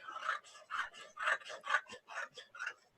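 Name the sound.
scissors cutting cardboard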